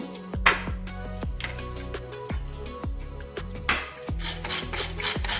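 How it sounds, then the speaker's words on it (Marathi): Bitter gourd is grated by hand on a kitchen grater, heard as repeated rough rasping strokes close to the listener in an uneven rhythm of about eight scrapes, each one sharp at the start, with no voices. "आता मी किसून घेते आता मी कारले किसून घेते"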